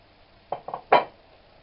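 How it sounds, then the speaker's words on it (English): A spoon stirs a thickening sauce in a pan, giving three quick close clinks and scrapes against the metal, the last one loudest. The clip is otherwise quiet, with no talking. "Just keep stirring until it boils."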